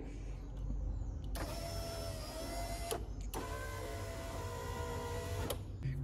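A Fiat 147 power window regulator from a newly fitted electric window kit runs twice in a row, each pass a steady whining motor drone of about one and a half to two seconds, heard up close with no talk.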